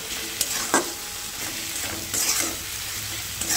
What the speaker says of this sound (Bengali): আর একটু ঢাকা দিয়ে ভালো করে নাড়িয়ে চাড়িয়ে কষে নিচ্ছি